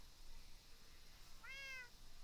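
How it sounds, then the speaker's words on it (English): A cat gives a single clear meow of about half a second, near and distinct over a quiet room hum. "Okay, cat says goodbye."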